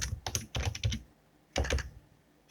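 Rapid typing on a computer keyboard while writing Java code: two dense bursts of close, clicky keystrokes separated by a short pause, with no talking.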